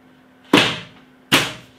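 Two solid slams about a second apart as the doors of a Philips PerfectDraft beer tap machine shut firmly, over a faint steady hum.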